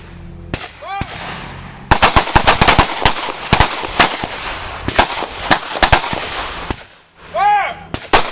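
Pistol shots at an outdoor shooting range during a basic self-defense course, many loud sharp cracks fired in rapid uneven volleys by several shooters, with a voice calling out at the start and again near the end.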